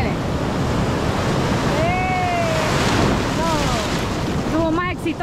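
Ocean waves wash onto the shore at Costa del Sol in El Salvador, a constant loud roar of surf with wind buffeting the microphone, and voices speak briefly over it.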